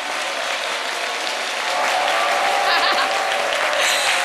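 A studio audience claps loudly and continuously, a dense wash of applause that swells slightly partway through, with no voices over it.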